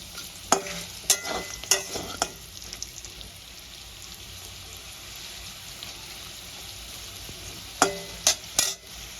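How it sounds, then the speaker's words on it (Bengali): Potato pieces seasoned with salt and turmeric fry in oil in a pan, a soft, steady sizzle broken by a few sharp scrapes and clinks of a spatula stirring, with no talk. "আলুগুলো ভেজে আমি তুলে নিয়েছি"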